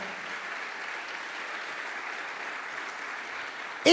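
A church Sunday school congregation applauds, a steady, moderately loud clapping that holds evenly throughout, with a sharp louder burst at the very end.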